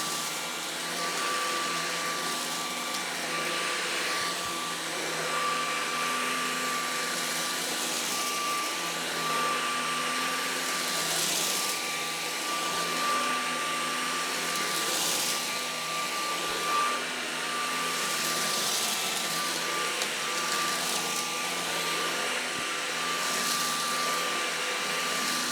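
A LEVOIT cordless vacuum cleaner on its regular mode sucks oatmeal off carpet, producing a steady, loud motor whine with a fixed tone throughout and faint rattling surges as debris is pulled in.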